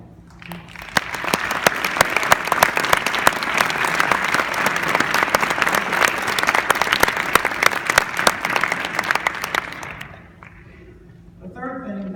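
Audience at a national association's presidential address applauding its office staff, a dense, steady, sustained wave of clapping that stops fairly abruptly after about ten seconds, followed by a brief voice.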